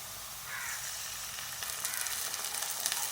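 Garlic ginger paste frying with softened onions in a pan for an egg brain masala, a bright steady sizzle that grows slightly louder and crackles more toward the end, close and alone.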